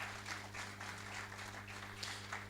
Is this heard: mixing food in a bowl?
no